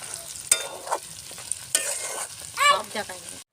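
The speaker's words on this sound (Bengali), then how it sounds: "চিকেনটাকে ম্যারিনেট করে রাখা হয়েছিল এবার মশলার মধ্যে ঢেলে দেওয়া হবে" Marinated chicken tipped into a pan of frying spices, a few sharp knocks and scrapes followed by a brief rising sizzle, close and moderately loud, then an abrupt stop.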